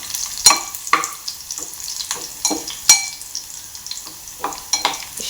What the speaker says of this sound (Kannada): ಜಸ್ಟ್ ಫ್ರೈ ಆಗಲಿ. ಅದು ಈ ಥರ ಫ್ರೈ ಆಗಬೇಕಾದ್ರೇ